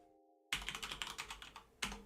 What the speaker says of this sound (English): Sorry for my loud keyboard.